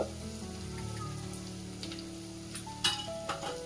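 Mixed vegetables for Bhogi bhaji sauté with turmeric powder and asafoetida. A soft, continuous sizzle runs under a steady tonal background, and a few light stirring clicks come near the end.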